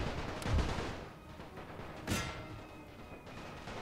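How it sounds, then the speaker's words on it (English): Gunfire and artillery in a First World War strategy game, a rolling wash of distant rifle volleys and cannon blasts with two heavier booming shots standing out, continuous battlefield noise with no one talking. "That's a lot of heavy fire going down."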